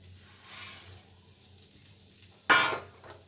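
Vermicelli with cardamom is stirred and fried in hot ghee in a pan. A soft sizzling swell comes first, then a quiet pause, then a sharper, louder burst of stirring and frying near the end.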